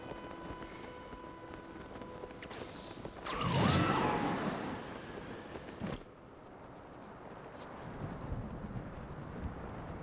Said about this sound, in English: Thunderstorms?